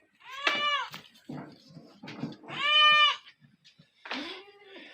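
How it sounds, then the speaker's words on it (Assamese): Several goats on a goat farm bleat in turn, with wavering, nasal cries spaced a second or so apart, close by, and small shuffling noises in between. "এইটো মোটা ছাগলী"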